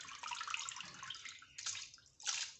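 Water splashes and trickles as falooda vermicelli is poured into a pot, a bright, uneven pouring sound with a fresh gush near the end, close and fairly quiet, with no talk.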